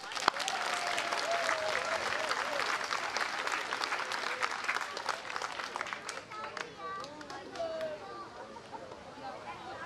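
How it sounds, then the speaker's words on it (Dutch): A large crowd applauds steadily for about ten seconds at an event in Akkrum, the clapping dense and sustained before thinning slightly toward the end, with faint voices and a few whistles mixed in. "En daar gaan wij met z'n allen een heel groot applaus voor hoor."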